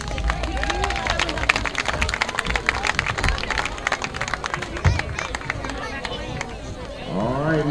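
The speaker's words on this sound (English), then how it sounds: "let's have one more round of applause for the 86-87" Crowd at a Laurel high school football game clapping and cheering in a rolling, sustained round of applause, with voices talking over and through it.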